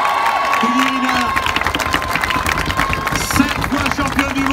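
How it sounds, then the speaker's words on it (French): A large audience at a Paris celebration for Olympic medallists breaks into loud, sustained applause and cheering for judoka Clarisse Agbegnenou, with dense clapping, shouts and whistles and some voices over the crowd. "Donc faites-lui un tonnerre d'applaudissements"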